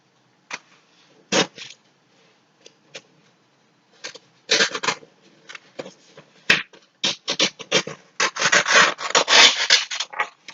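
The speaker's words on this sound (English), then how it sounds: "you can cut along that crease, cutting it into two parts" Scissors snip through folded red paper along the crease during a paper apple tree craft, sparse single cuts at first, then denser runs of rustling snips, close and fairly loud.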